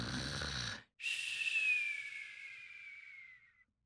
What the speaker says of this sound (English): Hey, what is all that snoring?